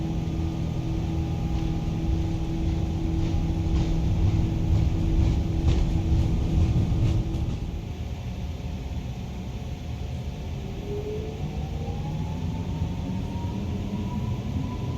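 Airbus A330-900 turbofan engines spooling up to takeoff thrust, a steady loud broadband roar with rising whine tones that shift and settle partway through, continuous with no talk.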